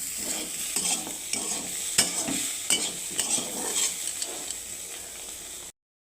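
Cauliflower fries in a pan with a steady sizzle while a spatula stirs it in repeated scraping strokes, close and continuous before a brief cut to silence.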